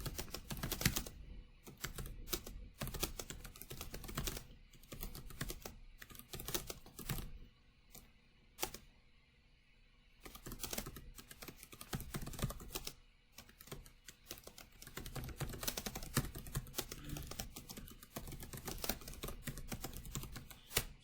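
Someone types on a computer keyboard, a quiet, uneven patter of keystrokes in bursts, with a short pause midway before steady typing resumes.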